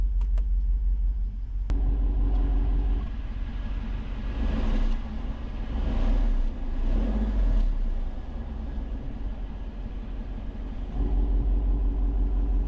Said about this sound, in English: even with the same engine, the exhausts do sound different